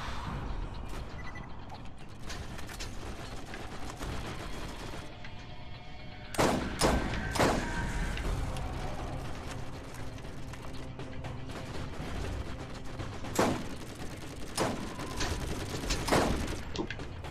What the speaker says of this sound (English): Someone is currently shooting at me.